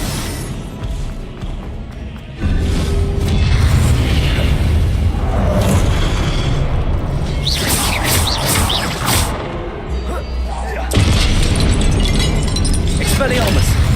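An Incendio fire spell cast in the game Hogwarts Legacy gives deep booming bursts and roaring blasts over steady combat noise, loud and close, with voices heard at points.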